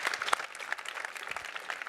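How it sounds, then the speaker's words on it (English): Applause from an audience at the Robothon award ceremony, a steady patter of many clapping hands at moderate level, no speech over it. "Let's give a hand of applause"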